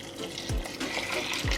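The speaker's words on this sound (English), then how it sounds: "You hear that now? You hear that bubbling? Instant bubble." Spicy curry goat bubbles in a pot over an outdoor cooking fire, a busy liquid gurgle with quick pops and bursts, fairly close and steady.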